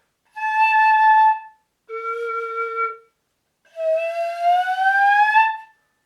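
A flute headjoint played alone gives three separate whistling tones. The first is steady, the second is lower, and the last bends upward in pitch. Each is clear and close, with silences between them.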